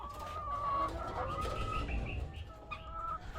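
Chickens from a first batch of poultry raised for sale cluck steadily close by, with a rooster-like call and other fowl sounds mixed into a busy farmyard background.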